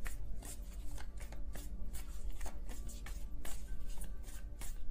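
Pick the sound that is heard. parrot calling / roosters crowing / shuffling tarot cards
shuffling tarot cards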